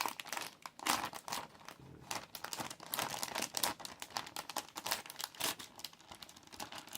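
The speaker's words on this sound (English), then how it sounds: "This is your ASMR crinkling experience." Paper crinkles and crumples close up for collage journaling: dense, continuous rustling with quick bursts and tears, soft and intimate, with no talking.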